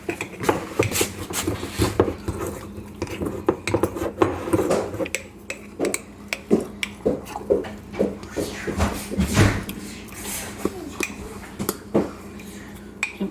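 Flour and water being mixed by hand for a sourdough starter, a steady run of clicking and scraping taps against a bowl for over ten seconds, close and moderately loud with no talk.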